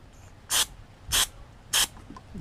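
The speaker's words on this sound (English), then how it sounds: "we're gonna go ahead and use the brake clean to clean that gunk out" Brake cleaner sprayed onto a part of a Nitro 200 paramotor engine: three short, evenly spaced hissing bursts, close and loud, with quiet gaps between them.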